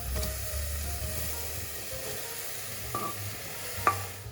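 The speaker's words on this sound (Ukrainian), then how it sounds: "викладаємо овочі в каструлю" A soft, continuous sizzle and hiss as vegetables go into a pot for mushroom soup, with faint clinks and a brief sharp tap near the end.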